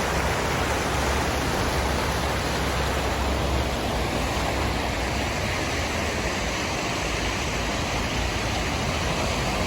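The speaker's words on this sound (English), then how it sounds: "There it is in the distance, behind the waterfall." Waterfall at Gibsons Cave, a steady broadband roar of falling water that holds unbroken and fairly loud for the whole stretch, with no voices over it.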